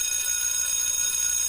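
Continuous electronic alarm bell ringing steadily and fairly loud with no pause, a bright sustained tone that holds through the entire moment with no voices over it.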